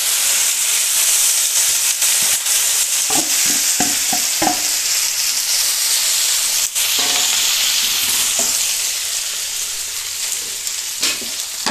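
Grated potato and onion fry in hot coconut oil with a loud, continuous sizzle, broken by a run of scraping stirs and a few sharp clatters of the spoon against the pan.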